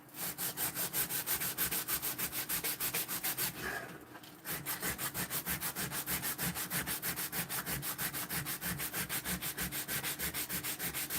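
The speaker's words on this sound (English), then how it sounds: "Just hit it real quick on the belt sander." Belt sander grinding steadily against a wooden spoon being carved, a continuous rough, rhythmic sanding rasp close up, briefly easing off around the middle before resuming at full strength.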